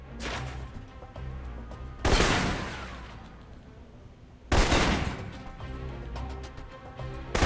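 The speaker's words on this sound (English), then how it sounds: "For long-range encounters, the assault rifle's the key" Assault rifle fire in Alpha Protocol comes in loud, dense bursts: one long volley around two seconds in, another near four and a half, and a third starting at the end, with echoing decay between them over a low background.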